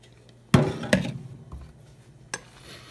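Shredded sharp cheddar cheese is dumped into an Oster 6-cup DuraCeramic rice cooker pot, giving two close clattering knocks followed by a softer tap.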